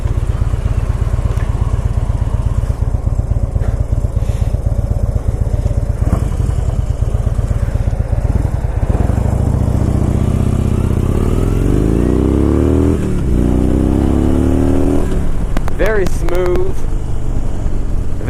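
A Harley-Davidson Dyna Bagger with the 103 engine rides along, its loud, close engine pulsing steadily, then rising and falling in pitch through shifts and acceleration, with a rider talking over it.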